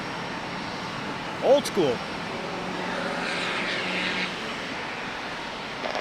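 Southwest Airlines plane in Classic Retro livery passing in San Diego, a steady jet engine rumble swelling and fading, with a person talking briefly over it.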